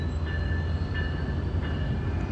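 Brightline diesel locomotive train rolling southbound past a rail crossing, a steady loud low engine rumble and rail noise with faint high whine, close and continuous with no talk.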